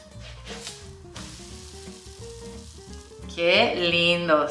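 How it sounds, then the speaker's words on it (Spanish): Thick homemade oat pancakes sizzling in melted butter on a griddle, a soft crackling hiss under background music that swells loudly near the end. "Vamos a cocinar estos panqueques en esta plancha. He puesto mantequilla, como ven."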